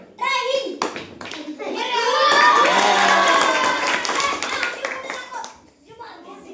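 An audience claps and cheers for a contestant in a fun party game, children's voices mixed into the applause, which builds to a dense, sustained burst and then fades.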